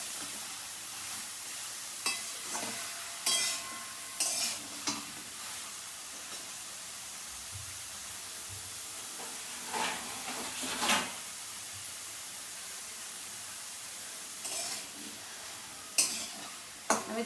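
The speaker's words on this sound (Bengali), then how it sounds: "মশলার সঙ্গে ঝিঙেগুলো ভালো করে কষিয়ে নেব।" Ridge gourd sautés with spices in a pan, a soft continuous hiss broken by occasional spatula scrapes and clinks, fairly quiet and close.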